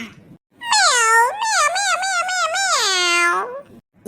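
A cartoon cat gives one long, drawn-out meow with a wavering, sing-song pitch, loud and close, standing alone with no talk around it.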